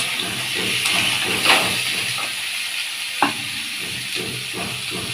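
Potatoes frying in hot oil in a pan for a crab curry, a loud continuous sizzle and hiss with a few stirring scrapes and clatters.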